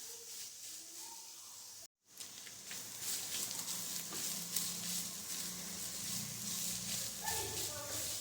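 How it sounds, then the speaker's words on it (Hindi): Chicken stuffing frying in a pan, cooked about two minutes for flavour: a steady bright sizzle and hiss runs throughout, broken by a short gap, with occasional stirring and someone talking over it. "दो मिनट तक हमने इसे फ्राई कर लिया है।"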